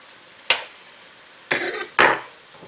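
Eggs for a breakfast omelet sandwich cooking in a buttered pan, heard as three short close bursts of scraping and sizzling, one alone and then two close together, over a quiet background.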